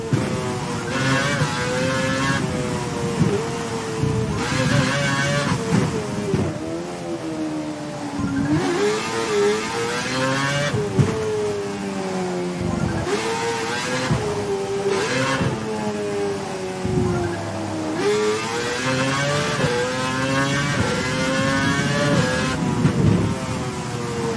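Formula One race car from F1 2012 lapping a wet track, its engine loud and continuous, rising in pitch through the gears and dropping sharply under braking for corners, repeated several times through the sector.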